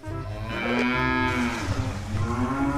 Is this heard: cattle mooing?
yes